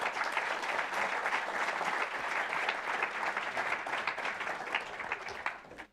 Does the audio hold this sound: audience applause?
yes